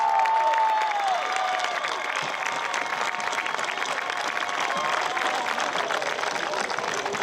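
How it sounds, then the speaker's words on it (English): A crowd at a football field dedication gives a sustained round of applause for the team, dense steady clapping throughout with faint cheering and crowd noise, moderately distant, plus a brief whistling tone at the start. "Let's get a big round of applause."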